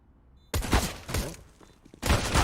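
SMG gunfire from Counter-Strike on the Overpass map comes in two sharp bursts of rapid shots separated by a brief lull, loud and close.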